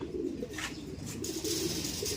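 Racing pigeons arriving at the loft coo softly in a low, steady murmur over a constant background hum, with faint chirps now and then.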